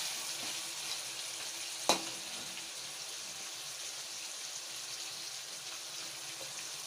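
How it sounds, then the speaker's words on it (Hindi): Meat sizzles steadily in a pan while being browned for desi chicken korma, a soft even frying hiss broken by one sharp knock near the start of the second half. "गोश्त को अच्छी तरह भून लेना है।"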